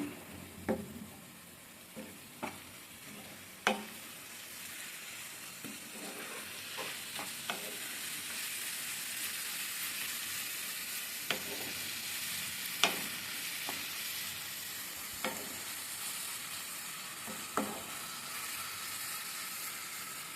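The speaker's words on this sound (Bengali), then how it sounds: "আমি তেল দিয়ে নুন দিয়ে কষে রেখে দেবো, বেশি ভাজার দরকার নেই" Steady frying hiss of ginger-garlic paste with salt in oil in a pan, with scattered clinks of a spatula scraping and stirring, fairly close, no talking.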